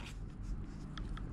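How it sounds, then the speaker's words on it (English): A pen scratches across paper in short, quick strokes at close range, a brief burst of writing with no speech over it. "So I will write down, HNO3 was added."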